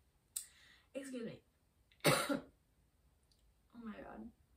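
Three or four short, harsh coughs in separate bursts, close and fairly loud, with pauses between them and no talking.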